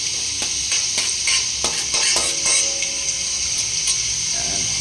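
Ginataang laing is stirred in a pan with ginger, a bright steady sizzle under a run of quick scraping strokes from a spoon that then ease off. The sound is close and has no talk.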